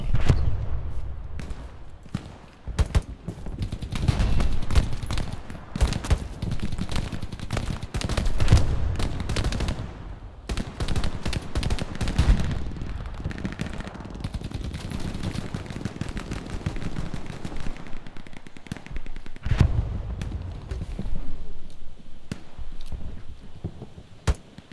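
Gunfire in the video game Hell Let Loose during a beach battle, rapid sharp shots and bursts crackling repeatedly over about 25 seconds, loud and close with a few brief pauses.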